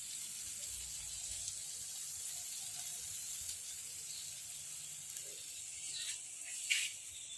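Spice paste with salt, turmeric and a little sugar being sautéed in oil in a pan for a pea dish, a soft steady sizzle running throughout with a few faint stirring clicks near the end.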